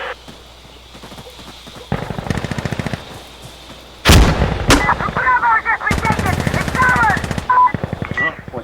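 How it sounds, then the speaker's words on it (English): Rocket artillery fire and heavy gunfire in the Insurgency Sandstorm video game, with loud impacts and rapid bursts of shots and explosions, some close and booming, under scattered voices over radio. "火箭来了，先别出去。"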